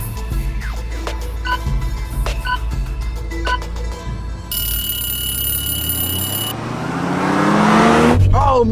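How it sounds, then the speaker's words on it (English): Two cars, an MK4 Toyota Supra and a fast Toyota Corolla, launch side by side in a drag race on a straight stretch of pavement; engines rev and rise in pitch as they pull away, growing louder toward the end, with some voices in the background. "Oh, much better launch, but so did that Corolla."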